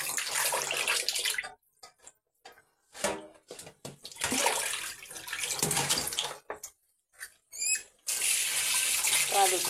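Tap water running while pangas fish are washed, bursts of splashing gushing water near the mic broken by short pauses and handling clatter, ending in a steady stream.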